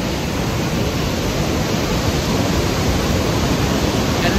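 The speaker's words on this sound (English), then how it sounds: "you can hear how loud the water is, you can see how rapid it is" Loud, steady roar of rushing river rapids in Sok Valley, heard from a bridge, a dense, unbroken wash of white water filling the whole clip with no voices.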